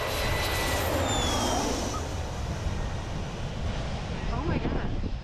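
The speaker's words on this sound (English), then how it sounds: "cool to see the planes go like right over your head" A fixed-wing jet airplane passes low directly overhead at Perfect Day at CocoCay. Its engine roars loud and sustained for several seconds, mixed with wind buffeting on the microphone.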